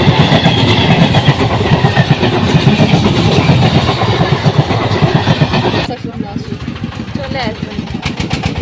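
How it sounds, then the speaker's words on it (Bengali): A train rolls past a railway level crossing while a bus waits nearby, making a loud rhythmic rumble and clatter that eases after a few seconds. People talk over the noise. "তো এখানে ট্রেন চলে এসছে।"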